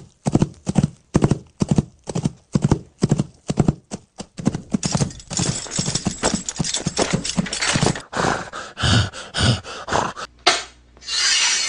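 Foley imitation of horse hooves, a steady run of sharp clip-clop knocks close up, shifting midway to a faster, rasping gallop-like patter before stopping.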